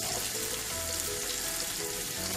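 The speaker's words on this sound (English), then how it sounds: "The oil must splutter." Potatoes and eggplant sputter in hot oil in a pan, a steady, dense hiss and crackle that stays loud and continuous from start to finish with no talking.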